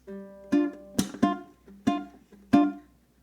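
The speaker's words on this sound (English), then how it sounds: "So I want you to do a palm mute, and then a staccato hit on 2 and 1" A ukulele strummed in a pattern for a song tutorial, with ringing chords cut short by palm-muted strums and crisp staccato hits, five distinct strokes, close and clear.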